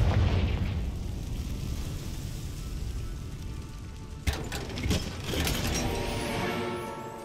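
A Confringo fire spell from Hogwarts Legacy bursts into a sudden booming explosion partway through, preceded by a steady rumble of game ambience and followed by a few crackling aftershocks.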